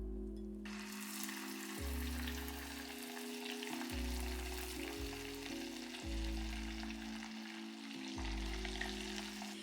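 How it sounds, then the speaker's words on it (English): Constant bright sizzling of breaded chicken breasts frying in oil, a dense crackling hiss over soft background music, close and steady throughout. "then it goes right into our oil for frying"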